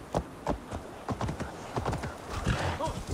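A horse gallops in Assassin's Creed Valhalla, its hooves striking in quick, rhythmic clip-clop beats with a brief whinny near the end, moderately close under faint game ambience.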